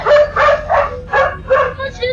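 A dog barks loudly at a leopard, giving about six sharp, close barks in an uneven rhythm, with yipping, whimpering edges between them.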